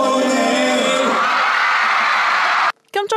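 A crowd of fans at a Running Man fan meeting screams and whoops in a loud, dense, sustained burst lasting nearly three seconds, followed by a short spoken voice.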